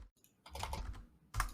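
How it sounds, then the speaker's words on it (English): Fingers tap on a computer keyboard in a quiet room, a short run of soft, irregular clicks followed by a louder burst of keystrokes. "people in the fucking audio are just gonna hear us typing"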